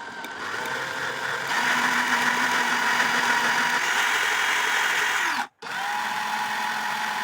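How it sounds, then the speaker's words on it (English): A power drill runs steadily while bending a wheel from an 1887 Ansonia marble mantel clock straight, its whine rising in speed partway through, then cutting out briefly before restarting. "turning on the drill slightly, and then turning on the drill more"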